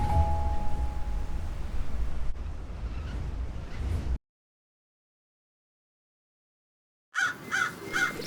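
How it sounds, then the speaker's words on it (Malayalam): A crow caws in a short burst of harsh, repeated calls that follows a stretch of windy, surf-like noise and a moment of silence. "കാക്ക."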